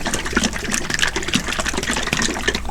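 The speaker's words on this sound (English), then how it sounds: "making sure the top is on securely before I start shaking it to stir it up" Someone shakes a bottle of black underglaze hard to mix it, giving a rapid, rhythmic sloshing and rattling up close with no speech.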